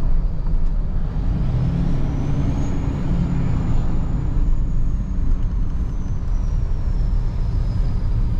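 A Ram 2500 pickup truck engine rumbles steadily and loudly up close, with a faint high whine rising and falling above the low drone.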